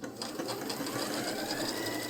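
A Janome Skyline S3 sewing machine stitches a heart shape, running steadily and close with a continuous mechanical whir and rapid needle clatter throughout.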